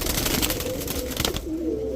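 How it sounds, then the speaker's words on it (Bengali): A female long-distance racing pigeon coos softly nearby, with a low murmuring call under the fluttery background sounds of a pigeon loft. "এরপরে দেখাবো মাক্সি রেসার একটা মাদি কবুতর"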